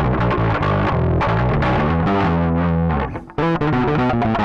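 An electric bass runs through an Aguilar Tone Hammer preamp set for brighter mids with drive, giving a loud, sustained, gritty run of notes that briefly cuts out before resuming.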